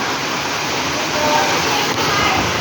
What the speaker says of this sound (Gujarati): તમે ખાલી તમે વરસાદ જુઓ